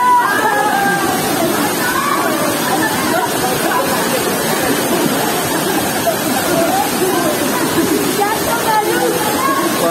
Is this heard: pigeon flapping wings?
no